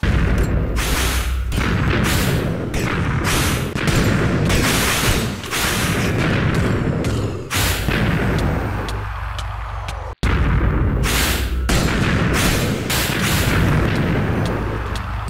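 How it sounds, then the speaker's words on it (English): A shotgun fires repeatedly in a video game, with loud booming blasts coming every second or so over a constant roar of game noise, one brief cut near the end and no speech. "shotgun makes quick work of him"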